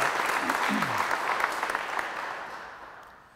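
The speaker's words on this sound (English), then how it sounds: "I think Clayco deserves a big round of applause" Applause from attendees at a university groundbreaking ceremony, moderate steady clapping that fades out toward the end, with a brief voice or whoop early on.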